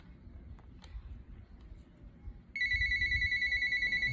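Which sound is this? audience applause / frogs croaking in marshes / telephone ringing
telephone ringing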